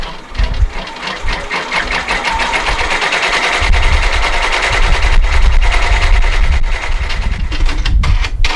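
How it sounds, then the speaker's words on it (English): A sewing machine runs steadily, stitching to tack down fabric for a reverse appliqué embroidery project, its fast mechanical whir continuous and close for the whole stretch, growing slightly louder midway, with no talking. "now it goes onto the machine, and that will tack down the fabric"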